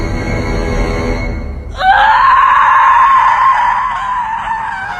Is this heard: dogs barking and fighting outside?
no